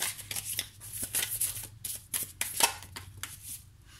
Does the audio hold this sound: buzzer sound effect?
no